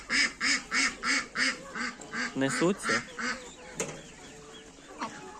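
Ducks quacking in a rhythmic run of about a dozen loud nasal calls close by in a farmyard where geese and turkeys are kept, followed by scattered softer honks and cackles as someone speaks briefly.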